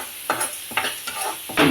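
Spices for puliyogare powder are dry-roasted and stirred in a pan, four distinct scraping strokes at a steady rhythm over a faint sizzle, close and fairly loud, with no speech.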